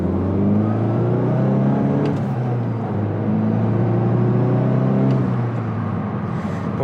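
A 2022 Volkswagen Golf GTI engine revving up as it accelerates on the Autobahn, pitch climbing steadily, then a gear change and another rising pull, close and loud.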